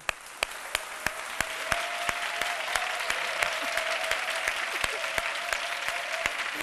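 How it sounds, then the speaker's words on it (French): Applause from a studio audience on a midday television variety show, a steady dense patter of many hands held evenly throughout, with a faint sustained tone running underneath. "on applaudit très fort"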